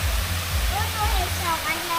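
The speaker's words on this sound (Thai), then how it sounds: "ใช่มันจะเป็นน้ำตกก้อนหินโอ้" A rock waterfall at a bamboo garden cafe park rushes in a steady, loud broadband roar, with a child's and adult's voices faintly heard over it.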